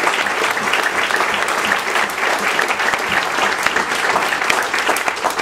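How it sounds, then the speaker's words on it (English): An audience at a community forum claps for veterans in steady, dense applause, loud and continuous throughout with many hands overlapping and no pauses. "would you please join me in giving them a round of applause"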